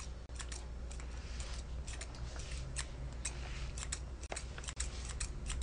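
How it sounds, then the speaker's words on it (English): Thinning shears snipping through a dog's fuller coat while grooming, a steady run of soft, close metallic cuts and rustles with a few brief pauses. "I'm going to take my thinning shears"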